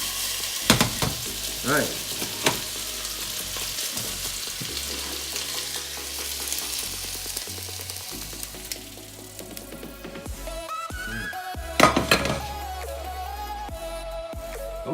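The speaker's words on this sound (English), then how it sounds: "want to finish this off with a little bit of sesame oil. I like some of that flavor of the sesame in there. Toss this around." A hot pan of keto stir fry sizzles loudly as sesame oil is added and the food is tossed, with steady crackling broken by sharp scraping and clattering stir strokes and a brief spoken word.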